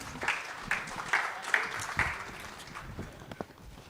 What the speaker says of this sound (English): Let's give a big round of applause, ladies and gentlemen, for Mr. Madhu Madhanan M